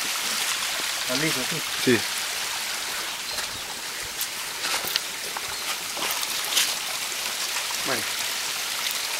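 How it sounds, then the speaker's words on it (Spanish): A small mountain stream at the source of a river, steady trickling and splashing water, close by, with brief voices and movement noises over it. "Aquí nace el río."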